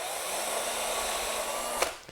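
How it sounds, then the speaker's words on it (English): A power drill boring a pilot hole into cedar driftwood, a steady high whirring for about two seconds that winds down with a small knock at the end, close and alone. "Because we're going into cedar, it's always a good idea to pre-drill."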